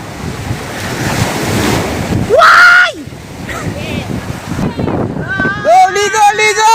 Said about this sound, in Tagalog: Lumakas yung alon. Kanina hindi naman malakas.